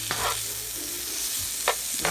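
Onions and bell pepper grilling in melted butter in a pan for a chicken quesadilla, an even, steady sizzle with a couple of brief stirring scrapes and no talking.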